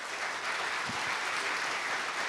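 A tech conference audience gives a continuous round of applause for the day's speakers, a dense, even roar of many clapping hands at steady loudness throughout.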